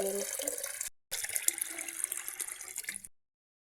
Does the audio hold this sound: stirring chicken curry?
no